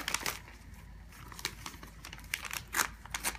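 Taped gift wrapping paper being pulled open and torn by hand, with repeated crinkling rustles and short sharp tearing bursts at close range, no voices.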